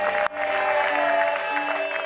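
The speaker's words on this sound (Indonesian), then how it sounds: "Boleh kita berikan tepuk tangan buat single man?" Studio audience applause for a single male contestant on the Take Me Out Indonesia dating show, clapping blended with steady musical tones and a brief dip near the start.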